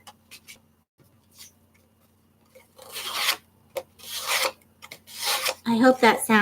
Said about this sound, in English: I hope that sound isn't annoying, you guys. Because I've got my diamond painting right over here.